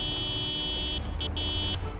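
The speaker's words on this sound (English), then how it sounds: "We'll honk it here." A car horn honks in the video game Project Zomboid, a steady tonal blare broken into a few short bursts toward the end over low engine rumble.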